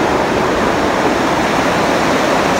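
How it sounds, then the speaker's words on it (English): A fast-flowing, ice-cold mountain river rushes close by with a loud, steady broadband roar, unbroken and with no voices over it. "the water current is really fast here"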